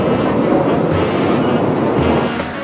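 A Korean subway train runs steadily, giving a continuous loud rumble and rush heard from inside a carriage, with no distinct voices.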